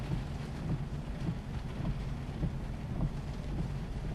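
Hurricane Earl on the Outer Banks in 2010: heavy rain and gusting wind roar as a dense, continuous rumble with rising and falling buffets, loud and close, with no one talking.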